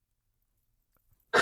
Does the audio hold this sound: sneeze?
yes